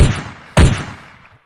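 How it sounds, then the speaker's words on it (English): Two gunshot sound effects fired off as a soundboard drop on a podcast, each a sharp, loud bang followed by a decaying rumble, the second coming just over half a second after the first. "I got more air horns, or more gunshots for Chandler."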